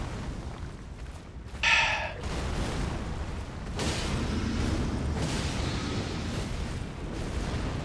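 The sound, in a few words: explosions in a video game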